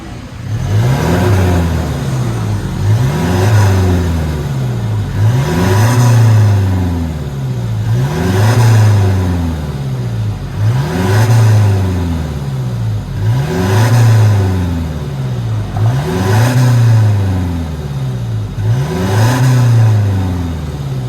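A Toyota Fortuner diesel fitted with a two-piece JTC titanium mid and tail exhaust revs in nine regular rising-and-falling pulls, loud and close, with no talking over it.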